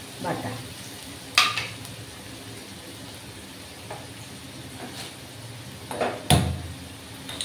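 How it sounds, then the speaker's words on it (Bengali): Onion paste fries quietly with garlic and ginger paste in a pan, a low sizzle broken by a few sharp scraping clinks as it is stirred. "পেঁয়াজ বাটাটা ভাজা ভাজা হতে হতে ওর মধ্যে একটু রসুন বাটা দিলাম"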